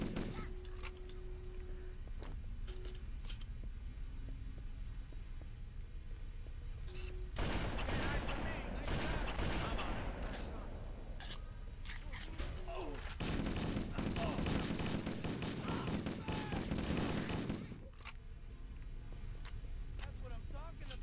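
Bursts of gunfire in Halo: Combat Evolved during a rebalanced campaign, with scattered single shots, then heavy sustained automatic fire in two long stretches, loud and close, with someone talking at times.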